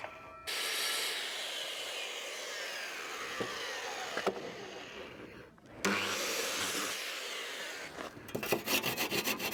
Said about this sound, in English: I'm using the drop saw to get a real nice vertical line straight down